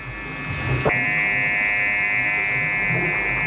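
Electric hair clippers running steadily while cutting a fade, a continuous close buzz that starts with a brief handling knock and holds an even hum throughout.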